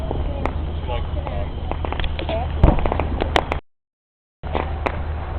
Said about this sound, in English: it's the Maumee Perrysburg fireworks